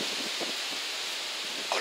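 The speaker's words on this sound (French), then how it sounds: "le vent c'est chiant." Wind buffets the microphone while carp fishing, with a constant broadband rush and gusty swells throughout the short stretch.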